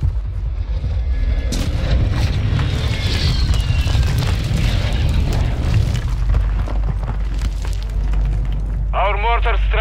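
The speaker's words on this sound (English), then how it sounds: "Friendly airstrike in the AO." Airstrike explosions in Warzone roll in as a loud, sustained series of booms and crackling debris, with radio-style voices speaking over the blasts and a brief electronic chirp near the end.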